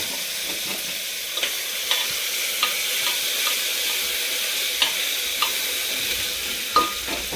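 Mutton pulao being stirred in a pan, a steady low sizzle of frying with faint scraping clicks from the spoon repeating every second or so, close and fairly quiet, no voices.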